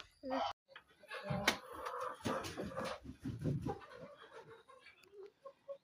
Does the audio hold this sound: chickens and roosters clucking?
yes